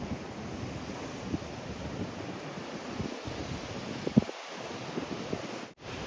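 Sea waves break on coastal rocks along the Oegongchi seaside walkway in Sokcho, heard as a steady, fairly faint surf wash mixed with wind rumble, with no voices.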